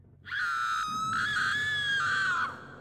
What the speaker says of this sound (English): We then heard someone screaming from outside.